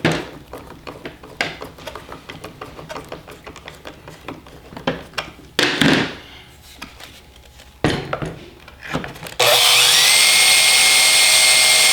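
A power drill bores holes in a snowmobile moisture box amid scattered clicks and handling clatter, with short bursts of drilling. It ends in a loud, continuous high-speed whir.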